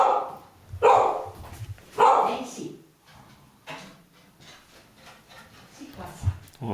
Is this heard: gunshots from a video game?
no